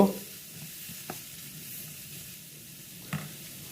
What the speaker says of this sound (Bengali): এবার আমি এগুলোকে তেলে প্রথমে ভাজি করে নিব।